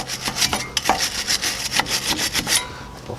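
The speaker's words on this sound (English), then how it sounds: "I just clean them up with a large wire brush. Let's get some of that corrosion off there" A large wire brush scrubs corrosion off rusted front brake bolts on a 2008-2012 Chevrolet Silverado 1500, with rapid rasping back-and-forth strokes, close and loud, in an uneven rhythm.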